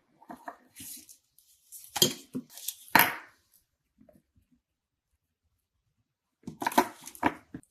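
A knife cuts through onion on a board, a few short taps and crunches in two scattered bursts separated by quiet.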